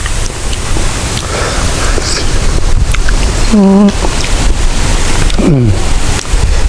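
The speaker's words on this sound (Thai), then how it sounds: "ลมวอวๆพี่น้อ" A strong, cold wind roars and buffets the microphone outdoors, making a loud, constant rushing noise throughout, with brief voice sounds rising over it.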